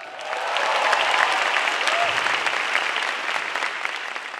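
Steady, full applause from a large theater audience at a televised Indonesian stand-up comedy grand final, sustained throughout with dense crowd clapping.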